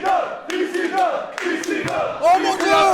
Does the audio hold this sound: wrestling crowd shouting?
yes